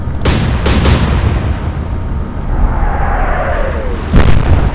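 Naval gun fire in the naval strategy game Atlantic Fleet, with a heavy boom up front and a second report near the end, a long rumbling tail and a falling whistle-like tone in between.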